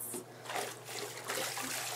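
Bath water tinted pale pink by a bath bomb is swished by hand to push bubbles aside, producing soft, close sloshing and trickling in a few brief surges.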